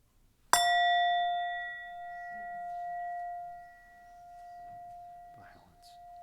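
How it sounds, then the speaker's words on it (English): A single bell is struck once during a bread communion service, a sharp clear strike followed by a long, steady ringing tone that slowly fades, with faint room murmur underneath. "bring it forth when the bell rings again"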